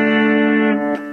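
A superstrat electric guitar played through its bridge pickup sounds a single sustained, bright, harmonically rich chord with slight effects, ringing loudly before a brief pick noise and a softer decaying tone.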